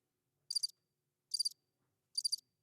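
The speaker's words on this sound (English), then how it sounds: "Crickets." Three evenly spaced bursts of high, trilling cricket chirps against near silence, faint and steady.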